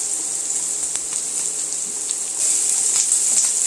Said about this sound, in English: I want to add 2 to 3 cloves of garlic that have been finely chopped